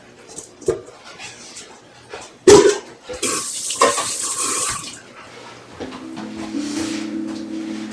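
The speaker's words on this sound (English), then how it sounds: "Bring everything to the sink and rinse it." Dishes and utensils are rinsed under a sink tap, with clattering knocks followed by a stretch of running, splashing water. A faint tone runs beneath near the end.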